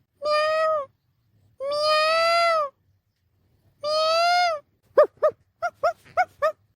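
Three drawn-out meows in a row, then a quick run of six short, sharp mews, close and clear with no talking.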